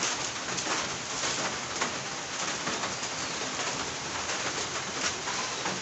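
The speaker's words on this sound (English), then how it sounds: "It's raining here because there is a typhoon" Steady typhoon rain hisses across the whole stretch, a dense, even wash of falling water with no pauses, fairly close and unbroken.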